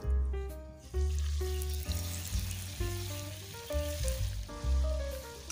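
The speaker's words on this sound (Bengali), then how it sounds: "এগুলোকে এখন আমি তেলের মধ্যে ছেড়ে দেব।" Potato chops coated in vermicelli sizzle and fry in hot oil, a continuous bubbling crackle heard up close and alone, with background music layered over it.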